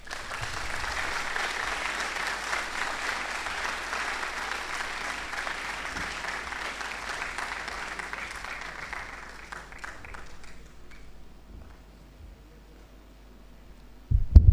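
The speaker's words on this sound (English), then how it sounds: "A big round of applause for our guest speaker." Sustained applause from an audience at a boys' high school leaving ceremony, honoring a guest speaker, fading out after about ten seconds into near silence, with a sudden loud thump at the very end.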